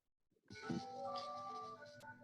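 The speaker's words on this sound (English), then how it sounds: "sorry for the phone ringing" A phone rings during a Zoom class session, heard faintly as a chiming ringtone of layered sustained tones lasting a couple of seconds against a quiet background.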